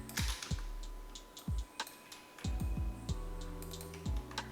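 Typing on a computer keyboard while entering text in Photoshop, quick irregular bursts of close, crisp key clicks with short pauses between groups, no voices.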